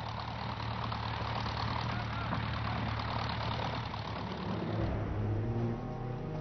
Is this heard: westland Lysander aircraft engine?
yes